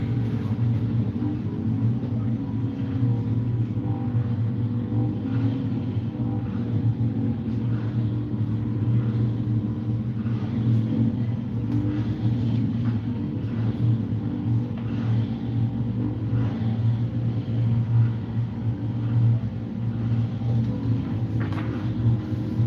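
Racing minibikes sit revving on the start grid at a championship round at Bishopscourt, a steady dense engine drone and rumble held at balanced revs throughout.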